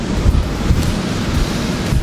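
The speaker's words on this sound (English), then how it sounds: "you're fishing in very much working water in between the rocks" Sea waves surging and washing between rocks along a fishing shore, loud and close with constant churning water and wind buffeting, no speech.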